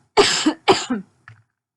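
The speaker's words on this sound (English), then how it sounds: "So if I start coughing, that's why." Two loud, dry coughs in quick succession, each with a rough rasping tail, then a faint short throat sound; close and alone.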